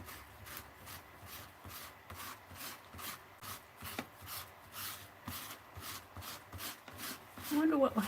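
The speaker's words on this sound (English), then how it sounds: "See, I just scrape off the top layer and it loses the detail if I scrape it" Dry melted crayon wax being scraped off a surface in a steady run of short, soft rasping strokes, faint and close, with a brief louder scrape near the end.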